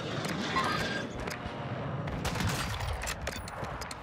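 Rapid bursts of gunfire in the video game Warzone 2 crackle through a dense, noisy mix, with scattered sharp shots and steady background rumble.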